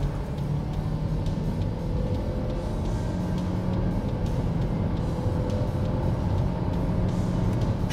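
A new compact crossover, a Hyundai Creta or Renault Duster, accelerates from 80 to 120 km/h at full throttle with kickdown, a steady loud engine drone blended with road and wind noise throughout, with no talking.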